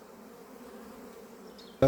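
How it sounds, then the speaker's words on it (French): A honeybee colony close to swarming, due to be moved into a hive, gives a steady, close droning buzz throughout, ending with a sudden sharp knock. "c'est une colonie qui va exploser là dans 10 jours"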